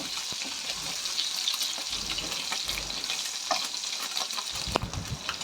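Egg masala curry frying in oil in a pan gives a steady, close sizzle, with a few stirring scrapes and a sharper clink near the end, and no talking.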